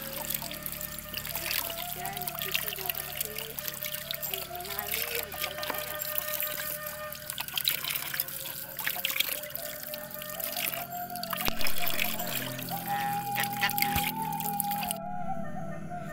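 Tap water trickles and pours steadily over peeled taro corms being washed clean for taro chips, a continuous close splashing and dribbling with faint background noise throughout.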